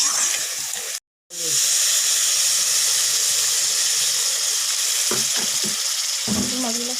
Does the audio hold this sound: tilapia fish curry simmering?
yes